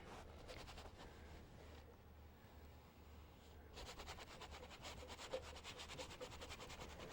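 Paintbrush scrubbing oil paint into canvas while painting a sock monkey: a steady, close dry rubbing and scratching texture that runs continuously, growing busier and more textured in the second half, with no talk.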